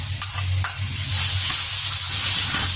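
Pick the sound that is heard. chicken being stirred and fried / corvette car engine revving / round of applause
chicken being stirred and fried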